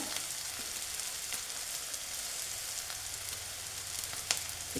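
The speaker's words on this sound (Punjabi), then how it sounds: "ਤੜਕਾ ਆਪਣਾ ਕਾਫੀ ਹੱਦ ਤੱਕ ਜਿਹੜਾ ਭੁੱਜ ਚੁੱਕਿਆ ਵਾ" A tempering of spices sizzles and fries steadily in a pan for a radish and milk vegetable curry, with a constant bright crackling hiss and a few small pops and stirring clicks, close up and without speech.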